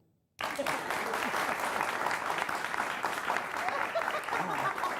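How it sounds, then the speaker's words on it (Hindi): Audience clapping at a Hindi comedy poetry gathering, a dense, steady wash of many hands that starts abruptly after a brief silent moment and continues loud and unbroken to the end. "ताली बजाओ।"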